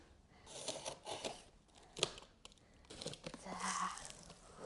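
A Diablo IV Lilith statue box being cut open, with scraping and crinkling of cardboard and packing material in short, close bursts, one sharp snap near the middle and a rougher tearing passage toward the end.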